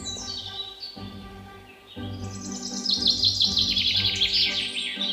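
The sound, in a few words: bird chirping in a cartoon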